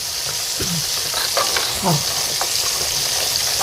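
Crab soup cooking with oil in a pot, giving a steady loud sizzling hiss with occasional soft stirring scrapes and bubbling.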